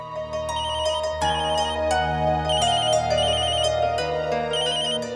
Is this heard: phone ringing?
yes